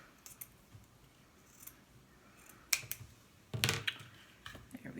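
Scissors snip through craft material in a few sharp, close crunching cuts, the two strongest near the end, against a quiet room background with no talking.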